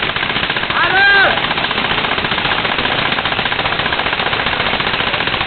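Rapid gunfire rattles in a continuous fast chatter throughout, loud and rough like an automatic weapon, with a brief whistling tone rising above it near the start.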